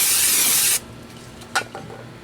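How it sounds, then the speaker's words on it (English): An aerosol can hisses in one loud, steady burst for under a second, cleaning a brake rotor on a 2016 Ford Fusion during a rear brake job, followed by a couple of soft clunks. "put it on backwards for a second, give it a quick spray"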